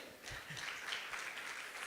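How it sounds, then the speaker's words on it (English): Faint, distant audience applause forms a soft, continuous wash of many hands clapping through the whole short stretch. "Some applause"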